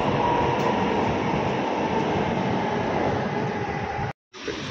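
A fast metro train runs at speed, heard from inside the carriage as a loud, steady rumbling drone with faint track rattle, dropping out abruptly for a moment near the end.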